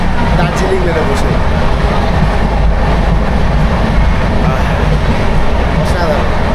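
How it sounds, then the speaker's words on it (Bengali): Sealdah–NJP Darjeeling Mail train running in the morning past tea gardens, a loud steady rumble with faint rail clatter continuing throughout. "সকাল সকাল আমাদের ট্রেন ছুটে চলেছে।"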